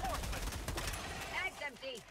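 Rapid gunfire bursts in the video game Helldivers 2, loud clattering volleys through the first half that thin out to scattered shots, with players' voices and game sounds alongside.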